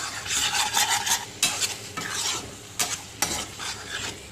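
A spoon stirs ridge gourd and dried mutton curry with karonda paste and turmeric in a sizzling pan, giving close, loud scraping strokes in uneven bursts with no talking.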